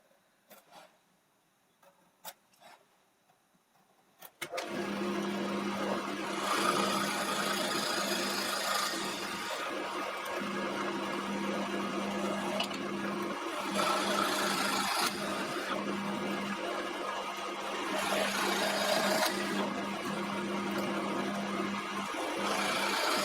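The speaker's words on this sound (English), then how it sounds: "To drill the dowel holes in the posts, I'm going to use the drill press" A drill press bores dowel holes into green oak posts, starting after a few quiet clicks and then running as a steady, loud motor hum with a grinding cutting noise that rises and falls as the bit works through the wood.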